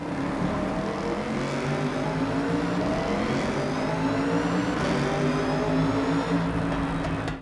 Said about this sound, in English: you downshift into a lower gear and just send it to hear that man-made symphony reverberate around me